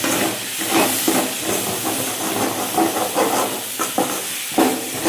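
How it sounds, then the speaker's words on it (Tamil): Small yams sautéing in a pan for a tamarind-style curry give a steady broadband sizzle and hiss, with brief scraping stir accents recurring throughout, close and continuous. "அடி பிடிக்காமல் நல்லா வதக்குவோம்."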